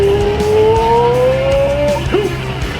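Omaha coupe race car running at Flabob, loud and steady engine drone with a pitch that climbs as it accelerates, a brief tire squeal near the end, no voices.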